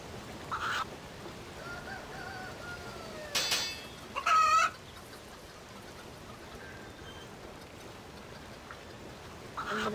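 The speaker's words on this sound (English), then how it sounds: "I'm gonna just kill this chicken" A chicken in the RuneScape video game clucks in a few short, separate bursts, with a brief louder squawk in the middle, over a quiet background.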